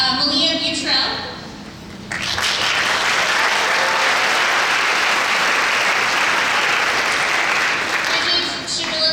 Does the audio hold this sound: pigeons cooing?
no